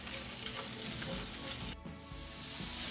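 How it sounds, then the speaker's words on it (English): Sliced vegetables fry in a pan with a steady, loud, close sizzle that runs unbroken, dipping for a moment midway before carrying on. "So we're going to throw those in the pan and just start to cook these up till they get a little bit brown."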